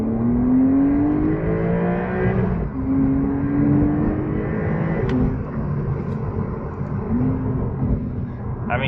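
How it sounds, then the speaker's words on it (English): A 2025 Porsche 911 Targa (992) with 379 horsepower accelerates hard and turns tightly, its engine note climbing in steady rising sweeps, dipping briefly and rising again under continuous close, loud road and tire noise. "I just floored it and it was really moving"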